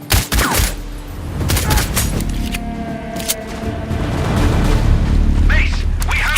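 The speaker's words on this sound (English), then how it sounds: "Someone is shooting nearby." Gunfire in the video game Sniper Ghost Warrior Contracts 2: a few heavy, booming shots up front, then a dense, sustained rumble of shooting and noise that builds toward the end.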